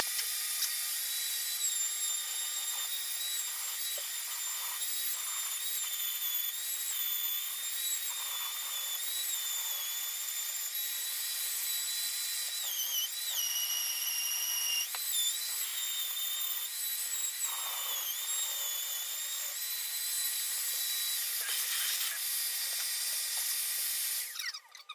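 Dewalt DW618 router cutting wood and epoxy along a template, a continuous high-pitched whine that wavers and dips in pitch as the bit loads up, steady and fairly loud for the whole stretch, with no talking.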